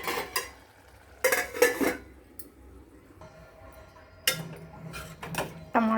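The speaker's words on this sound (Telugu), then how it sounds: "మూత పెట్టేసుకుందాం." A lid is set onto a cooking pot of tomato and broad bean curry, giving a few close, sharp metallic clanks and rattles separated by quiet pauses.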